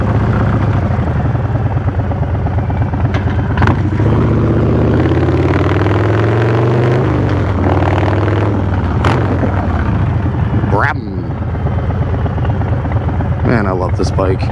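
A 2026 Harley-Davidson Custom Street Bob 117 motorcycle rumbles steadily at close range while riding two-up, its low throbbing engine droning under a voice that talks throughout.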